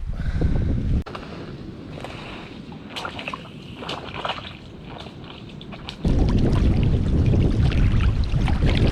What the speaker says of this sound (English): over to the right I can hear the sound of the ocean, but over to the left I can actually hear the sound of a waterfall